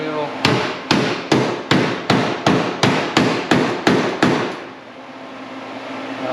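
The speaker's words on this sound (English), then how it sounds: "we're putting that in with the block wood hammer" A block wood hammer pounds a crease into a car body panel: about eleven sharp, evenly spaced blows at roughly two per second, close and loud, then a low ringing hum as the strikes stop.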